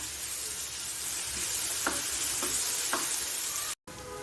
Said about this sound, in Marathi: ही आलं लसूण मिरची कोथिंबीर ह्याची पेस्ट आणि ही ह्या तेलावर छान परतून घ्यायची आहे